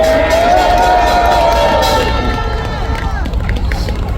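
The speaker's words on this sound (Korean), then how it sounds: "여기 나온 교수분들을 위해서 큰 박수 한번 해주시기 바랍니다." A large outdoor rally crowd gathered for protesting professors applauds and cheers loudly, a dense wash of clapping with rising shouts and whoops, near and sustained before slowly thinning.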